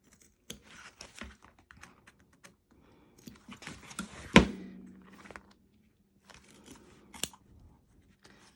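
Scissors snipping thread and fabric held in an embroidery hoop, scattered sharp close clicks and cuts with one loud thunk midway and quiet gaps between, no talk.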